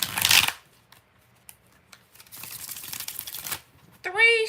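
Tarot cards being shuffled by hand, two bursts of riffling and sliding cards, the first short and loud, the second longer, with a brief voice at the end.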